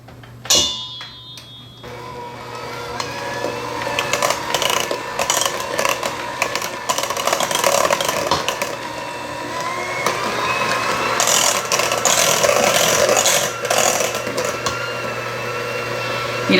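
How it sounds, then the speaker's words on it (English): An electric chopper chops zucchini, whirring and rattling steadily for most of the stretch with a low mechanical hum. The buzzing rises in short surges up close, following a brief clatter at the start. "I actually put it into my electric chopper"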